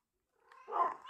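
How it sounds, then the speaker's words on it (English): A cat meows once in the game Minecraft, a short, fairly quiet cry that rises out of silence and lasts about half a second. "Oh my god, I have so many cats."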